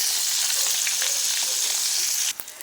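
Small fish frying in a hot pan give off a loud, bright, hissing sizzle that holds steady for about two seconds, then drops off abruptly into a few faint crackles.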